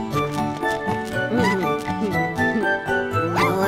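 A cartoon puppy yaps and whimpers in a series of high, bouncy barks over cheerful children's music with jingling accents.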